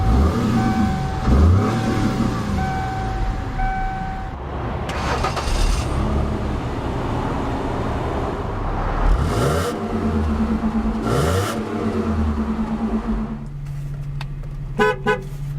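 A 2001 Mercury Cougar V6 engine idles and revs repeatedly, loud and close, with several throttle blips rising and falling and a horn-like tone near the start.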